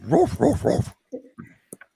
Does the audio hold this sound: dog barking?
yes